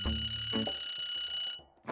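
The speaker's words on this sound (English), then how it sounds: "So the timer just went off" A kitchen timer's alarm rings steadily for about a second and a half, a bright, continuous electronic beeping that then stops, with brief cooking clatter afterward.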